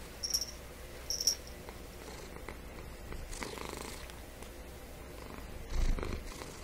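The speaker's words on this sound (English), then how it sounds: "Purr for them. Purr for the people." Soft, low purring of a cat close up, quiet and continuous, with a few faint clicks and rustles around it.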